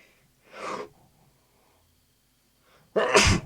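Two sneezes, close and sharp, a softer one followed by a louder, forceful one after a quiet pause.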